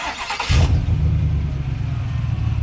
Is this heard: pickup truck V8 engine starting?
yes